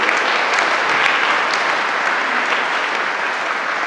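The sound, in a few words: church congregation applauding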